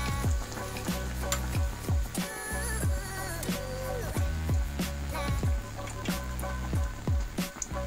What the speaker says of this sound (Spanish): vamos entonces a ponerlo a freír